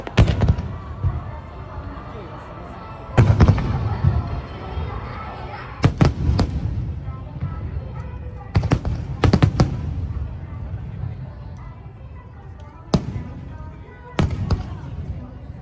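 Fireworks burst at a Japanese hanabi festival, sharp loud booms arriving in scattered clusters with lingering rumbles and crackles between them, while a voice narrates over the display.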